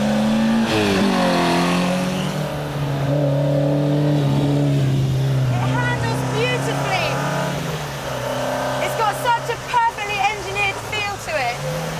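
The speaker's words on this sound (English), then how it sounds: "Because this car sprints, it's got most of its punch low down the rev range" A 1960s kit-built sprint competition car revs its engine, a loud, rough, throbbing note rising and falling near the listener, with someone talking over it and sharper blips of throttle toward the end.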